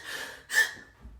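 A voice imitates aroused breathing with a sharp gasping inhale, a short pause, then a louder breathy gasp, closing with a faint low exhale, close and alone.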